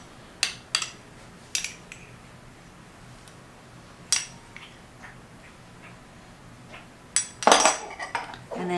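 Scrambled eggs being stirred together with mayonnaise and mustard, a utensil clinking and scraping against a bowl in scattered sharp taps, close and fairly quiet, with a louder clatter near the end.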